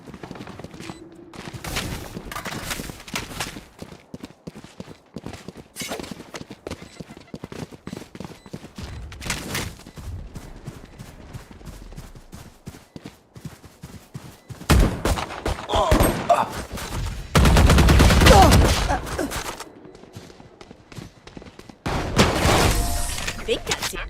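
Bursts of gunfire from a squad-based shooter video game, loud volleys and rapid automatic fire coming in clusters with quieter gaps between, mixed with game effects and occasional talk.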